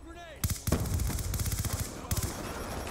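Rapid automatic gunfire in Call of Duty: Black Ops 2 on the Nuketown map, loud bursts of rattling shots, then a second volley, with a faint voice near the start.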